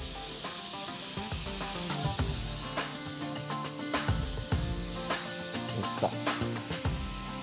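Beans cooking in a hot pan for a bean casserole, a steady sizzling hiss with repeated stirring scrapes and soft clinks at an irregular rhythm, close and fairly quiet, with one brief spoken word.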